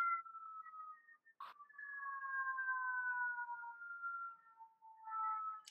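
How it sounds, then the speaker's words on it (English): A faint siren wails far off, its pitch slowly rising and falling in long sweeps, with a brief knock partway through and no voices. "the sirens are going in the background"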